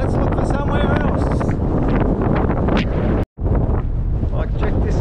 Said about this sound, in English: The wind's a bit bad. Pretty windy.